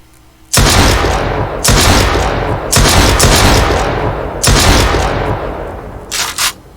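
Shotgun blasts ring out in a zombie shooter video game, five loud booming shots spaced about a second apart, each trailing a short echo.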